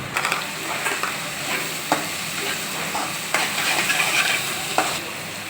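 Steady sizzling and frying of capsicum in a hot pan for Manchurian, with repeated scraping stirs, close and fairly loud, no voices.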